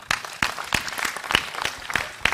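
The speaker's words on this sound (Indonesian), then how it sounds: "Tepuk tangan semua." A small group clapping, a quick spatter of hand claps close by, irregular and lively for a couple of seconds.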